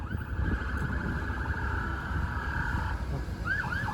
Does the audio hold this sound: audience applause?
no